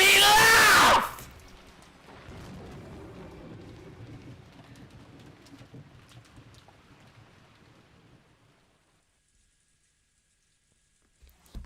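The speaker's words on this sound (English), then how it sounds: "It started to rain in the rose garden." In the Umineko Hane video game, rain falls in a rose garden. A loud crash opens the clip, then a steady hiss of rainfall fades gradually to near silence, ending with a faint knock.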